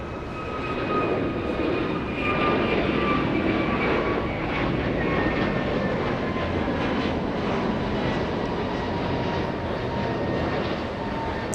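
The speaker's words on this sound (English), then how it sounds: "First one that's going to be departing is the Asiana." Asiana airliner departing Los Angeles International Airport, a steady, loud jet engine roar with a broad rushing wash and faint whining tones, sustained throughout from a moderate distance with no talking.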